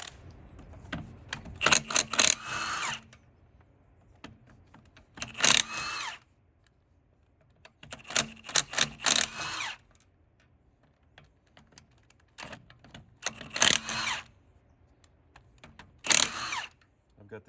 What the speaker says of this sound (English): we're gonna take the wheel off with an impact